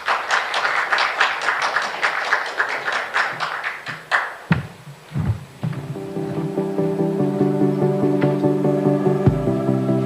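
Audience applause welcoming the head of the Korea Internet Corporations Association at a digital economy press conference, a dense burst of clapping for about four seconds that fades into a quiet room with a low steady hum.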